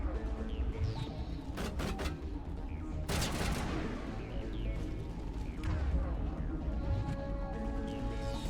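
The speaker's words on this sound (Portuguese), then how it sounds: "Eu não sei de onde que tá vendo esses tiros aí não" Gunfire in the video game Mass Effect 1 Legendary Edition, with scattered sharp shots and a louder burst midway, mixed with game ambience and a voice talking over it.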